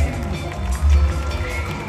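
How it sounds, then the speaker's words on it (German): An audience at a stunt show in Movie Park cheers and applauds, a dense crowd wash with low rumbling swells, loudest around the middle. "einen riesigen Applaus für Angelina Kopp und James"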